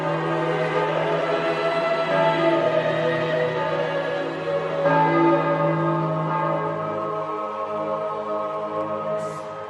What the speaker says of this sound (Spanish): pronto comienzan a sonar las campanas y ya no hay dudas